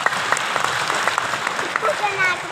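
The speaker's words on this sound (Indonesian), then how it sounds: "tepuk tangan ya." Audience applause at an event on easing business permits for small businesses during Minister of State-Owned Enterprises Erick Thohir's visit to De Colomadoe, Solo, a steady broadband clatter that runs the whole moment with a voice mixed in.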